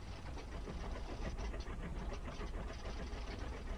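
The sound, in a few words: bomber engines starting and running in IL-2 1946 video game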